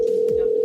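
A single steady telephone ring tone, loud and close, lasting under a second before cutting off abruptly.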